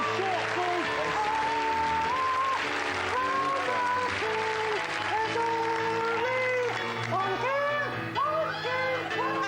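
Studio audience applause on a live morning TV show, sustained and fairly loud for most of the stretch, with musical tones playing underneath.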